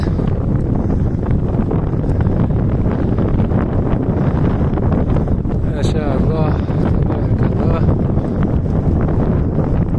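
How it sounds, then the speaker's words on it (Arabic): Heavy headwind buffets the microphone in a constant loud roar during a bicycle ride, with a person speaking briefly underneath. "وبرشا ريح عكسنا، لازم نعمل شوية أكثر جهد."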